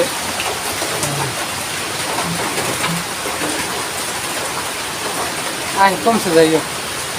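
Steady heavy rain hisses throughout in a rice paddy field in Bangladesh, with a few people speaking faintly underneath and brief louder sounds near the end.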